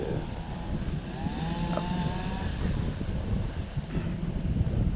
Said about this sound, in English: The winds are kind of shifty.